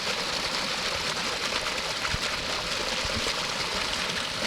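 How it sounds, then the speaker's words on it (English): A waterfall spilling into a pond beside a lakeside dock, a steady broadband rush of falling water that stays loud and continuous throughout, with no talk over it. "Here's the waterfall that I was talking about right here."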